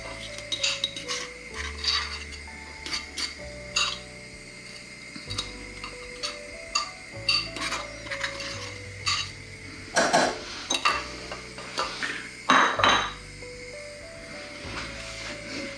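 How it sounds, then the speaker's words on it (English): An egg mixture thickened with xanthan gum is stirred in a pan off the heat, with a spoon scraping and clinking against the pan in irregular bursts and short pauses between them. "Giving it a stir."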